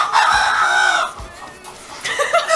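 Chickens and a rooster at a poultry farm, a loud close crow followed by clucking and more calls, with some background noise.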